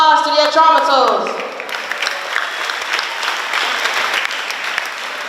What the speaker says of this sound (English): May we give another round of applause to the Atraumatos.